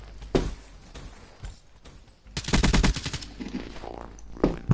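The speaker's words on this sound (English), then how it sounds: "What's your what gun? VMP." VMP submachine gun firing in a video game, with short bursts of rapid automatic fire, including one sustained rattling burst midway and sharp isolated shots around it.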